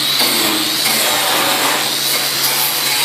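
A grinding wheel runs over the welds on steel security bars, giving a loud, harsh, continuous grinding close by.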